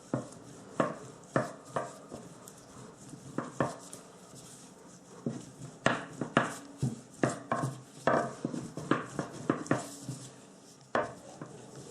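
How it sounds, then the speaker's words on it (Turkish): Baklava dough sprinkled with starch and flour is rolled out on a table, giving a steady series of sharp, close knocking and thudding taps of a rolling pin, irregular but continuous, with no talking. "Biraz nişasta, biraz un serperek açmaya başlayalım."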